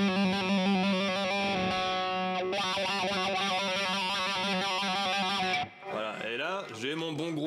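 Electric guitar lead through an East River Drive overdrive, heavy distortion and reverb, loud sustained saturated notes and bends ringing into a brief reverb tail before a new phrase starts.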